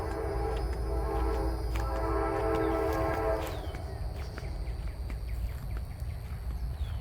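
A train rumbles past near a raised-bed garden in Florida, a steady heavy roar with a drawn-out horn-like tone that fades midway, leaving lighter rattling and outdoor noise.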